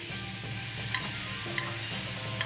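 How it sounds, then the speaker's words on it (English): A sauce of soy sauce, sake, mirin and sugar boils hard over high heat, a continuous bubbling hiss up close with a few soft spoon clinks. "Boil over high heat."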